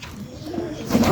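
Pigeons in a pigeon house give soft, low cooing calls nearby, a murmuring coo that swells slightly toward the end.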